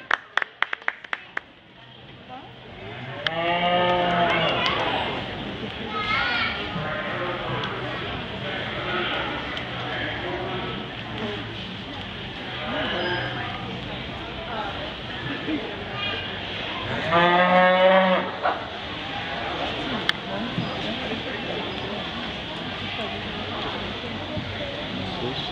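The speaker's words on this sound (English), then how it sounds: "Taylor Flanagan, showing a Black Angus from the Taylor Middle School High School FFA." Cattle moo repeatedly at an FFA livestock show ring where a Black Angus is being exhibited, the calls fairly close and loud over steady crowd murmur, with brief clapping near the start.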